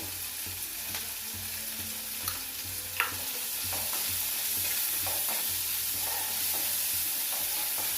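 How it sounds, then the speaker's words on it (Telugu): Onions, green chillies and salt fry in a pan for sago upma, with a steady hiss of sizzling oil that grows slightly louder midway, plus occasional light clicks and scrapes from stirring. "కొంచెం వేగితే ఇవన్నీ ఉల్లిగడ్డలు వేసుకున్నానండి, పచ్చిమిర్చి, కొంచెం ఉప్పు వేస్తానండి"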